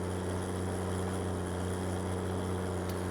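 A tractor in a farming video game drones steadily while pulling a no-till seed drill through a field to sow wheat, with a constant engine hum and no voices.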